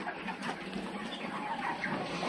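Chickens on a poultry farm cluck and murmur quietly during feeding, soft overlapping calls scattered over a low background with no talk.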